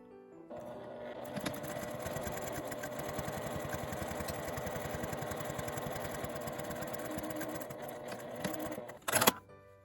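A sewing machine edge-stitching the fabric of a small quilted mini pouch runs in one steady, close, fairly quiet whir for several seconds, then stops with a brief clunk at the end.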